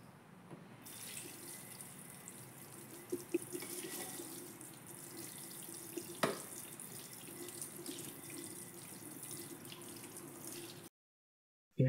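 Tap water runs steadily into a kitchen sink during dish washing, a continuous close splashing flow with a few brief clinks, then it cuts off abruptly near the end.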